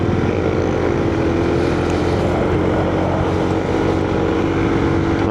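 Steady motor noise from road traffic during rush-hour riding between CSJDM and Quezon City, a continuous engine drone with no distinct single motorcycle pass standing out.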